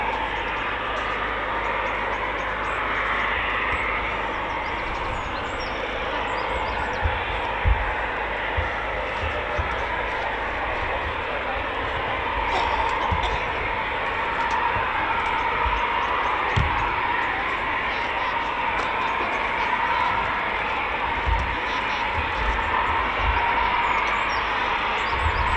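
A Eurofighter Typhoon FGR4 fighter jet in a performance departure gives a loud, sustained, rumbling roar with deep low-end thunder and crackle, dominating for nearly half a minute.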